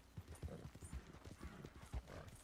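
Horse hooves clip-clop in Red Dead Redemption 2, a steady rhythm of close, low thuds about twice a second across the whole stretch with a faint game background underneath.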